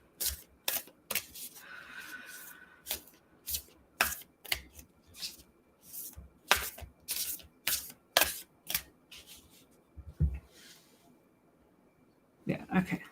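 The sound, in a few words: shuffling a deck of tarot cards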